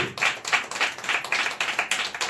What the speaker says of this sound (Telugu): చప్పట్లు కూడా దేవునికి కొట్టు చప్పట్లు